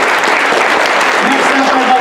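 Dense, loud applause from an audience at a school board meeting, a continuous even roar of clapping with a voice faintly underneath.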